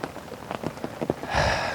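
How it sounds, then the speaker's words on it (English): Heavy rain falls relentlessly at an unfished mere during a carp-fishing session, a close, steady patter of drops drumming on nearby surfaces that swells into a denser wash toward the end. "This morning this rain is absolutely relentless."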